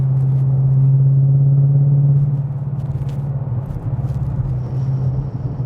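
A 2015-2017 Ford Mustang GT V8 fitted with an MBRP 3-inch aluminized race cat-back exhaust drones steadily at highway cruise, loud and close, with a low rumble that eases slightly partway through.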